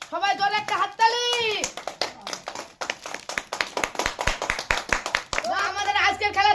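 Children clap together for a contest winner at a kids' game, a dense run of sharp handclaps mid-clip, with children's voices and speech before and after.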